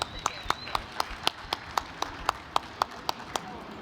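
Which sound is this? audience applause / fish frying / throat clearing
audience applause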